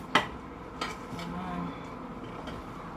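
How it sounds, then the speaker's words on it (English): Pasta being stirred in a pot for a Jamaican country-style dish gives a few sharp utensil clinks against the pot over soft, quiet kitchen background noise. "I'm gonna stir up my pasta"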